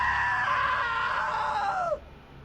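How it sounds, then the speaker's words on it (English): A single sustained scream in What Remains of Edith Finch, loud and close, holds for about two seconds before sliding downward and cutting off into quiet room tone. "Now that was a great scream."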